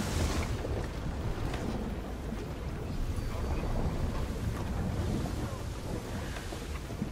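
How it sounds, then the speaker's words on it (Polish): Sailing ship riding big waves in Assassin's Creed Odyssey, a constant rush of wind and churning water with heavy low surging, fairly loud and unbroken. "Ale fale się zrobiły naprawdę spore."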